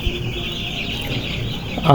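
Six-day-old chickens on ash-treated litter cluck and murmur steadily in a noisy poultry farm shed, a constant busy flock sound with no clear speech.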